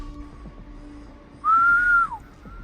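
A single clear whistled note rises and holds for about half a second before dipping, faint against a quiet outdoor background in the Alaskan wilderness, with a fainter echoing whistle after.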